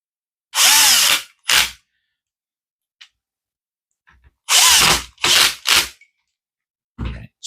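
A handheld power drill drives three screws back into a Midea induction cooker after the coil is refitted, in short sharp bursts: two quick whirs, then a pause and three more close together, with a faint trailing buzz.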